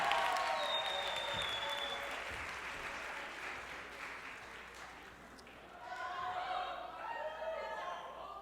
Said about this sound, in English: give those Ben Merit winners one more round of applause